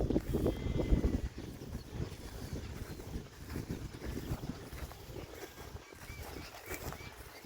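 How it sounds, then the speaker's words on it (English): Sheep bleat in an open field along the Mavora River track, with a few scattered calls amid heavy wind buffeting the microphone. "More sheeps."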